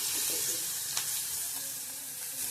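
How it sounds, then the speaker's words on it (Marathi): Garlic-chilli paste, cumin and curry leaves frying in hot oil as a tempering for Maharashtrian buttermilk kadhi, a steady close hiss and sizzle with a sharp spatter and light stirring, no voices. "7 ते 8 पानं कढीपत्त्याची, लसूण आणि मिरचीची पेस्ट केलेली ती भाजून घेऊया त्याला कच्चापणा जाण्यासाठी"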